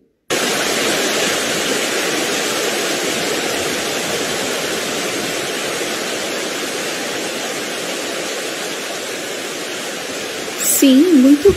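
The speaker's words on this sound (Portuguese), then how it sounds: "Esse é o som da cachoeira." A waterfall's steady, dense rush of water fills the scene at constant loudness, close and unbroken, with a brief voice-like sound appearing only at the very end.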